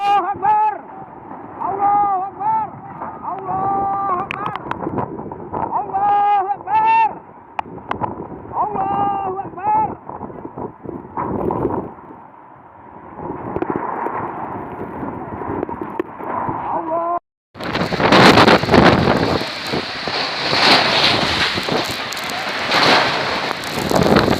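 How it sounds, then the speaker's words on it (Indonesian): Strong tornado wind in Klaten, Central Java roars and buffets loudly, rough gusts with shouting voices over the first part, then a sudden harsh, dense blast of noise dominating the final seconds. "Ini angin."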